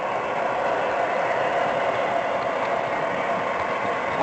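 An HO scale model train runs along its track, a steady, even rolling whir and rattle of small wheels that stays loud and close with no pauses.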